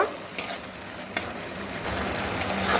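Cornflour gravy is stirred in a pan for cabbage Manchurian: a soft bubbling sizzle runs throughout, broken by three sharp spoon scrapes against the pan at irregular intervals.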